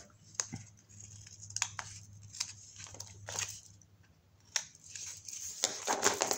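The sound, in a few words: scissors cutting the corners of a paper pocket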